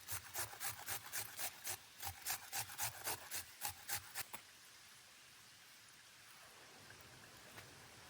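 A capsicum is rubbed on a small grater at a rainy camp, giving about sixteen quick rhythmic rasping strokes that stop abruptly halfway, leaving soft rain-like background hiss.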